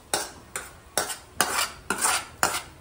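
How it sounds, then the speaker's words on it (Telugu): Onion frying in oil in a kadai, stirred in six evenly spaced scraping strokes, each a loud close swish over a faint background sizzle, no voices. "ఈలోపు మనకి ఆనియన్ అయితే ఫ్రై అవుతుంది."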